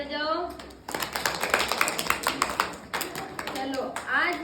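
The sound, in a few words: children clapping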